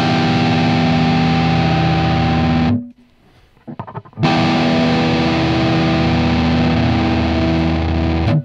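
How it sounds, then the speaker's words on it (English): Electric guitar played through an Axe-Fx II amp modeler, loud distorted notes ringing out, a high-to-medium note then a low note, with a brief near-silent break between them. "So on the XFX2, I'm playing a high note, or actually kind of a medium note, and then a low note."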